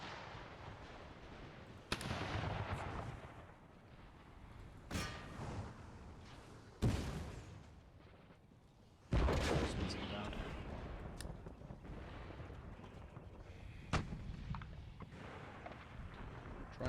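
Cannon artillery fire in Empire Total War, heard as repeated loud booms and thuds at irregular intervals over a constant battle din, with someone talking throughout.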